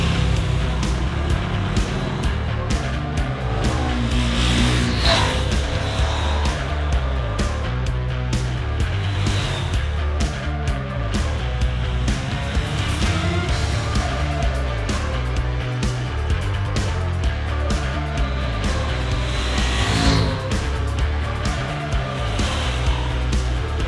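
KTM touring motorcycles, a 1290 Super Duke GT and an 890 SMT, riding along a curvy road, a steady loud engine drone with wind rush that continues throughout without talk.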